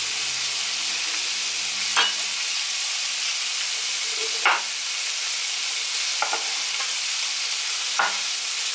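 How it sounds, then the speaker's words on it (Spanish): Sausages fry in a pan with a steady, bright sizzle, broken by a few brief stirring or shifting sounds, close and without talk. "Vamos a dejar que se sofrían bien las salchichas."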